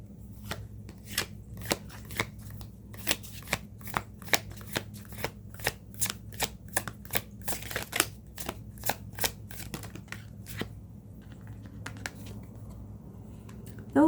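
Tarot cards being shuffled by hand, a long run of quick, crisp riffling snaps at an uneven rhythm, close and fairly soft, with no talk.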